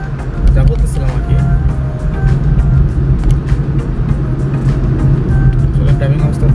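Inside a car driving at night in Canada, a low engine and road rumble drones steadily and loudly, and a voice seems to speak over it.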